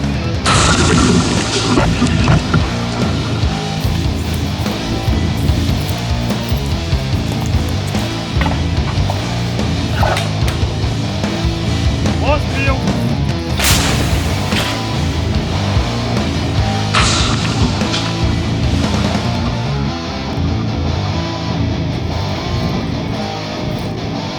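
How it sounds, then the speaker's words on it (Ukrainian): Rapira anti-tank gun firing at the front near Avdiivka, heavy booming blasts over dense, continuous battlefield rumble, with sharp bursts standing out around the middle and later. "зараз нам дали на озброєння е, рапіру. Пробуємо з нею, досить ефективно працює"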